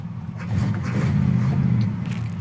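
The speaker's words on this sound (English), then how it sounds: "it's idling about 800 RPMs right now" A 1966 Pontiac GTO V8 idles at around 800 RPM, a deep, close rumble that swells slightly after the first half-second and then holds steady, with no talking.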